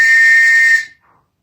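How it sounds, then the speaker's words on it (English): A Scotland police whistle is blown in one loud, shrill, steady blast of under a second that cuts off sharply, followed by silence. "my Scotland police whistle"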